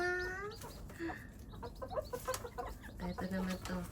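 Chickens cluck repeatedly on a farm, a close, busy run of short calls and squawks over a steady background hum, with no talking.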